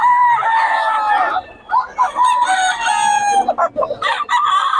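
Gamefowl roosters and chickens at a farm in Bocaue crow loudly and repeatedly at close range, with clucking between the crows and no talk over them.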